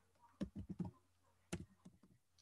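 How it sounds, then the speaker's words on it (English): Computer keyboard keys tapped in two short bursts, a quick cluster of four or five clicks, a pause, then a few more, close and fairly quiet. "I'm going to type in, historic"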